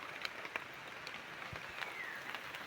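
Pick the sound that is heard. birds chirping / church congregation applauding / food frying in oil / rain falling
rain falling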